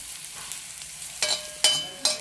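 Onion, garlic, cumin and curry leaves frying in a pan, a soft background sizzle broken by a few sharp scraping stirs near the end, close and without talk.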